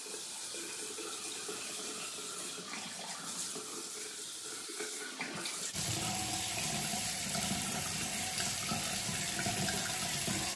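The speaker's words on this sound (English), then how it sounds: "Then I'm going to rinse this using cold water." Cold tap water runs steadily into a sink for a face rinse, a continuous close hiss that grows fuller and louder midway, with no talking.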